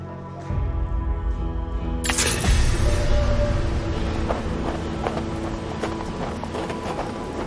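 Horse hooves clip-clop in the western video game Hard West 2, a steady galloping rhythm under a layer of game music and wind-like ambience.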